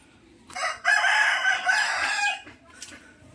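A rooster crows loudly and close by, one long drawn-out call, followed by a short faint cluck.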